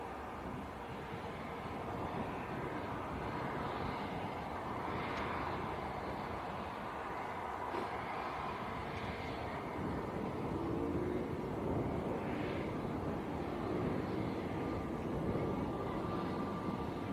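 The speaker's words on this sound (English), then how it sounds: "A321neo to Alicante. This aircraft is 6 years of age." An Airbus A321neo at Manchester Airport produces a distant, broad jet roar that holds steady and fairly faint against outdoor wind noise for the whole stretch, with no voices.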